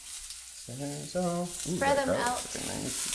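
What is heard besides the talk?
pork and ginger sizzling in a stir fry pan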